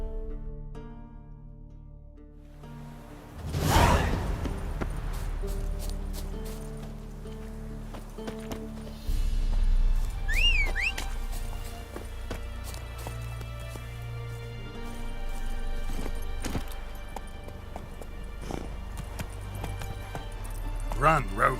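Roach, the horse in The Witcher 3, gallops in a steady clip-clop rhythm under game music and scattered effects, with a loud burst near the start and speech-like voices through parts of the scene.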